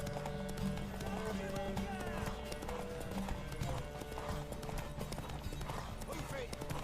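A horse gallops in The Witcher 3 during a race, with steady rapid hoofbeats running throughout against a busy game soundscape.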